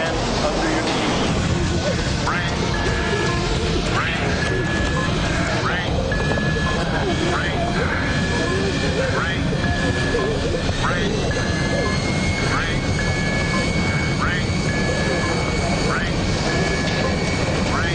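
An airplane lands blind after volcanic ash has blasted its cockpit window, a loud continuous engine roar with repeated tonal warning beeps and voices speaking over it throughout.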